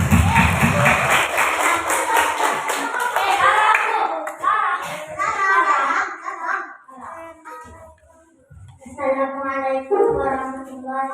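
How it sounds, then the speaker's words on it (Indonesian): A group in a classroom claps hands together at the start, the clapping fading into children's voices and a speaker talking over much of the rest. "Tepuk tangan, tepuk tangan."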